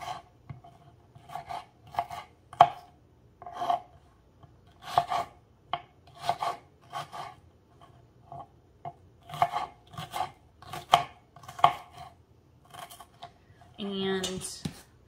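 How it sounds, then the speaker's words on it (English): Knife dicing a small red onion extra fine on a cutting board, a steady run of crisp chopping taps in quick bursts, close and clear, with a brief different sound at the very end. "So I'm dicing my onions up extra small."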